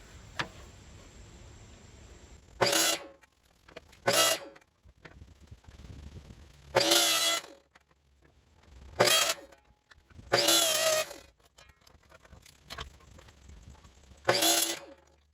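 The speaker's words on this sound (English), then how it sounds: "So I'm going to try to do it on the miter saw." A miter saw cuts maple and walnut pieces in a series of seven short, sharp, loud bursts spread irregularly across the span. Quiet low background fills the gaps between the cuts.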